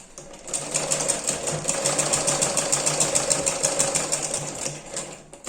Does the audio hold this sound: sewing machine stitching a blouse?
yes